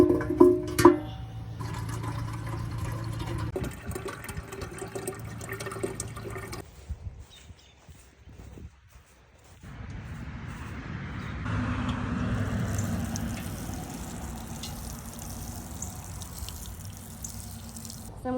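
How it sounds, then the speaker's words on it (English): Water running and splashing as it is drawn from a garden rain barrel outdoors, in intermittent bursts with handling noises and a quieter pause midway. "I'm gonna get water out of my rain barrel,"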